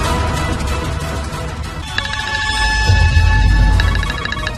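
A telephone rings during a tense call, its repeated electronic ringtone chirps coming in bursts over a low rumbling background, fairly close and clear.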